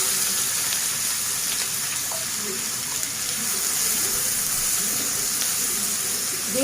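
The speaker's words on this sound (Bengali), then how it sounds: "এবার দিয়ে দিচ্ছি চপ করে রাখা পেঁয়াজ।" Chopped onion dropped into hot oil with bay leaf, whole cumin and whole garam masala for a chicken curry, giving a steady, loud, hissing sizzle that runs unbroken for the whole stretch, with no talking.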